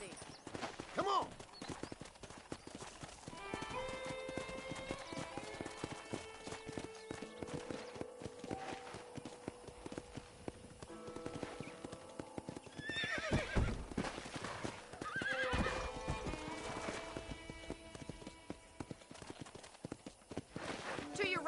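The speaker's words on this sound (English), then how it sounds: "I picked out a fine horse for you." Steady clip-clop of horse hooves with repeated neighing and whinnying in the game Red Dead Redemption, continuous over a background of game sounds and occasional talk.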